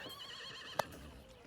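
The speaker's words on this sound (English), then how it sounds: "You hear a horse" A horse neighs once, a short, clear whinny in a fantasy adventure scene, standing out faintly over a quiet background with no other clear sounds.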